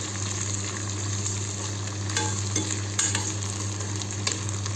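Onions and green chilies fry in a pan for a potato-okra sabzi while being stirred, a steady close sizzle with occasional scraping strokes of a spoon.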